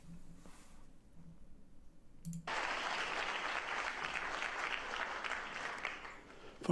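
After a hushed opening, a studio audience from The Amanda Show bursts into steady, full clapping at about the midpoint. The applause holds strong until the end.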